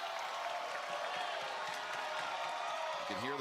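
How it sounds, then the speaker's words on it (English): A wrestling arena crowd roars in a dense, sustained wash of cheering and noise on a broadcast, and a voice cuts in briefly at the very end. "You can hear the crowd erupting."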